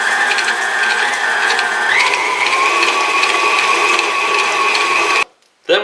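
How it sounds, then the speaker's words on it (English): An electric mixer beats brown sugar and granulated sugar for cookie dough, giving a loud, steady whirring motor drone whose pitch rises slightly partway through before it cuts off abruptly near the end. "we'll beat that until it's nice and creamy"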